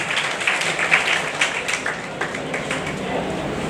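A crowd at a NEET 2022 ceremony of a Prayagraj coaching class claps steadily for a few seconds, with a busy patter of many hands and slight swells in intensity.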